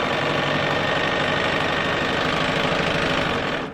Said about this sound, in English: I'm just going to line them up again and continue sewing.